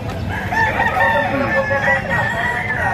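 Pumpkin gamefowl rooster, a bird over a year old, crowing in a sustained call at close range over steady farmyard background noise.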